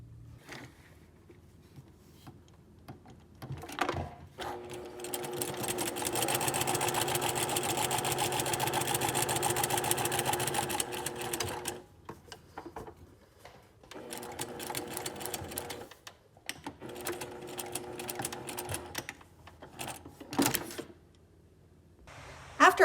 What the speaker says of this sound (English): We're going to follow up by understitching this seam as well, meaning stitching a 1/16 of an inch over from the seam